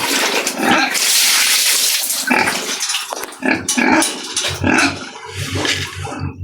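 A farm pig grunts and snorts close by in short, rough bursts with splashing water behind it. The grunts grow more rhythmic toward the end.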